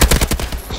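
A short, fast burst of submachine gun fire from Call of Duty: Advanced Warfare, about eight close, loud shots in quick rhythmic succession.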